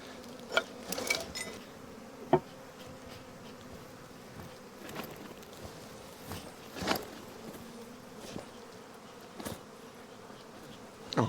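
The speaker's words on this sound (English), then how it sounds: "Oh man, there's a lot of bees here." A swarm of bees buzzes steadily around a honey harvest during beekeeping on a Greek island, a close, continuous drone with brief louder passes as insects fly near, and no talking.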